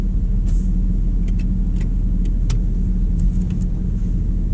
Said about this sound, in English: So we move off nice and smooth and gentle.